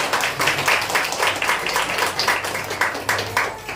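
A group in a church gathering claps together, a steady, fairly loud patter of many hands with rhythmic swells and no voices on top.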